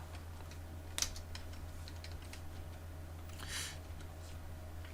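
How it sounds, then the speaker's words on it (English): Numbers are keyed in on a computer keyboard for inventory software, as light, scattered clicks with one sharper tap early on, heard up close over a steady low electrical hum. "Just going to type these in, save me a bit of time"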